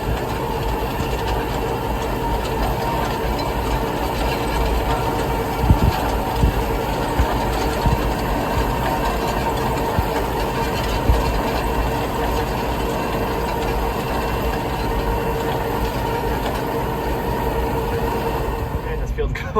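A tractor pulling a 33-foot hay tedder across a hay field at first cut, a steady loud engine drone with continuous mechanical rumble throughout, no pauses.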